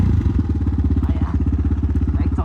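A motorcycle engine runs close by with a steady, rapid pulsing throb, loud and rhythmic, as the bike is ridden.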